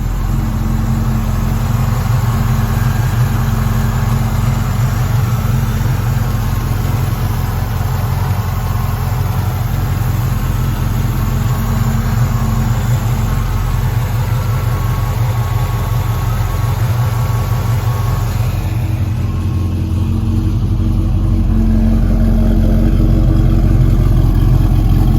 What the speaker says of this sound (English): we're going to go ahead and get the engine cranked up